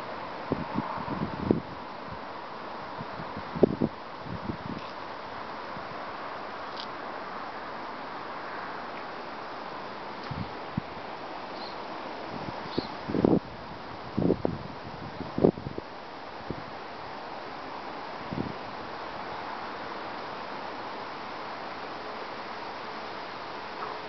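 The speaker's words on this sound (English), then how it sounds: "The beginning winds of Hurricane Sandy." Early Hurricane Sandy winds on a Monday morning, a steady low roar of gusting air with rustling leaves and occasional soft knocks and crackles, continuous and moderately faint throughout, no voices.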